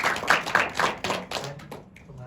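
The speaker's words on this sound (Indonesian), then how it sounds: "kita kasih tepuk tangan untuk kelompok 1" Classroom audience of university students clapping for a presenting group, a short burst of scattered hand claps mixed with voices, fading out toward the end.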